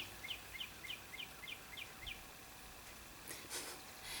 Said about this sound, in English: Assuming you guys can hear the birds.